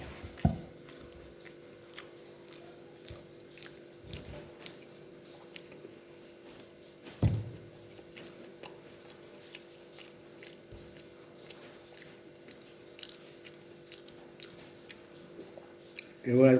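Chewing raw green banana, with scattered close crunching bites and wet chewing sounds spread over a long stretch against a faint background hum.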